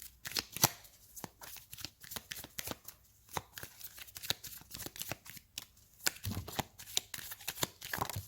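A deck of tarot cards is shuffled quietly and close by, producing a rapid series of soft riffling flutters and snaps in uneven bursts.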